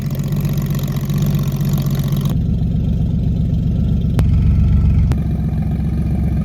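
A Porsche 993 with an aftermarket Alibaba exhaust, driven as a convertible, rumbles loud and close, a deep throbbing engine note that shifts in character partway through with brief revving surges, no voices over it.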